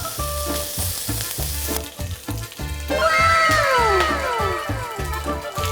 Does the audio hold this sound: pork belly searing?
yes